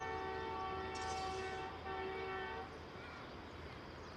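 A Pakistan Railways ZCU20 diesel locomotive's engine hums steadily with a long, loud horn blast that fades as the rumble continues, near Ling Tunnel.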